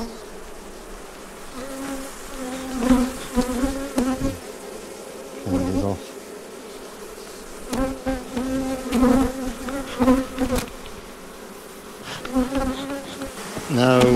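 Disturbed honeybees swarm around an opened hive, with a dense, continuous buzzing of many insects close by and individual bees droning louder as they pass near.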